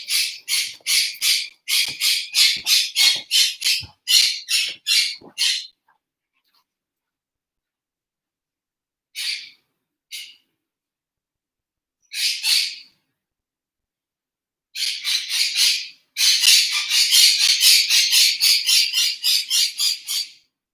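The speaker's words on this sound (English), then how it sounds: "Bird's not gonna stop as long as you hear me talking." Pet bird squawking indoors in loud, rapid bursts of repeated harsh calls, pausing briefly before breaking into longer sustained strings of squawks, close to the microphone.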